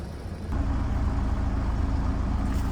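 A Scion FR-S engine rumbles to life and holds a steady, close, low drone as the car pulls away.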